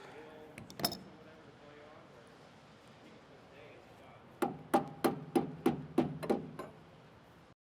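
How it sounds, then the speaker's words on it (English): About eight sharp metallic taps of a small hammer in quick, even succession during blade installation on a corn header, following a single earlier clank over low background noise. "Grab my little hammer."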